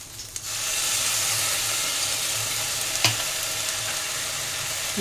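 Soy sauce hits a hot frying pan of Chinese-style bread upma and sets off a loud, steady sizzle that holds without a break, with one sharp utensil tap partway through.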